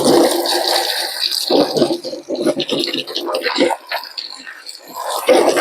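Water runs and splashes steadily into a bowl for cleaning a helmet, with brief gurgling surges, close by and fairly loud.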